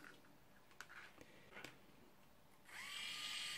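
A DC motor driving a wheel through an H-bridge whirs faintly with a few ticks, then switches into a louder steady high whine with a rising tone that holds to the end.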